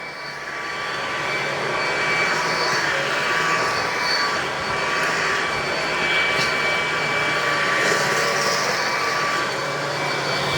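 A Bissell 4173 or FurFinder 4052 vacuum cleaner running on carpet, giving a loud, steady, continuous whirring drone that holds without a break from start to finish.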